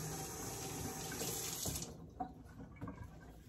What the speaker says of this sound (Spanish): Lavo, paso allá para el lavamanos y lo lavo.